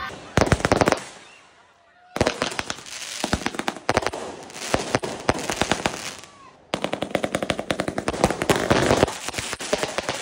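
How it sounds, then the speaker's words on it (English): Fireworks go off in rapid, dense crackling bursts, loud and close, in three long volleys separated by short pauses, with no clear voices over them. "we're gonna put on fireworks"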